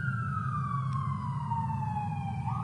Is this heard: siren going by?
yes